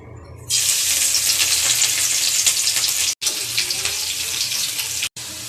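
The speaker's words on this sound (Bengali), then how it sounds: "তেল গরম হয়ে গেছে, আমি আগে রসুন দিয়ে নেব।" Garlic frying in hot oil in a wok, a loud, steady hiss that starts abruptly and runs continuously, with two brief cuts near the end; no voices.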